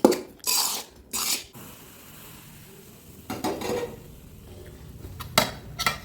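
Dough being mixed by hand in a bowl with Dalda and a little oil: bursts of moist squishing and scraping come in several separate clusters, with quieter stretches between, close and alone without talk.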